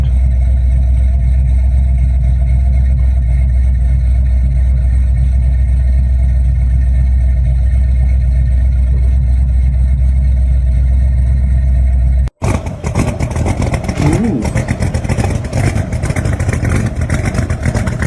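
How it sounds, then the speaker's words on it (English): A car engine idles with a deep, steady rumble, then cuts abruptly to a louder, rougher LS6 engine sound that continues up close. "Cherry with LS6 engine. Listen to this sound."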